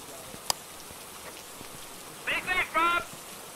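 Steady rain patters outdoors in the ghost-hunting video game Phasmophobia, a soft, constant hiss under a brief burst of nearby talk and a sharp click.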